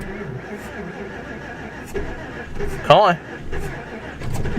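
A 1973 Dodge W200 truck on a cold start gives a brief cranking attempt with a sharp burst near the end, set against outdoor background noise while someone speaks over it.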